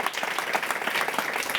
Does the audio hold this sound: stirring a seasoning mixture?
no